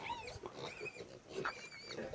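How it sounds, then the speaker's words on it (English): Grain-fed goats on a farm in hot weather, making faint grunting and bleating calls, several overlapping cries at a distance in quiet surroundings. "Grain-fed goats."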